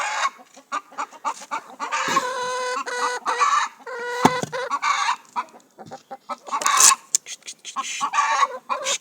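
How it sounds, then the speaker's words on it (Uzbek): Several chickens and a rooster clucking in a busy, overlapping chorus, with short bursts of louder calls scattered through, fairly close by. "bunga ham bir 5 ta tovuq va xo'roz bor"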